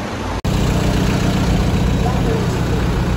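A right-hand-drive BMW car engine runs at a steady idle, loud and close, with a constant low rumble after a brief break near the start.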